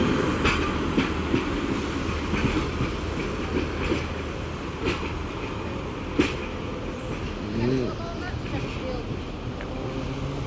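Northern Rail class 144 Pacer unit 144 009 rolls past at Sheffield with a steady rumbling roar and faint wheel clatter, and a voice talks briefly over the passing train.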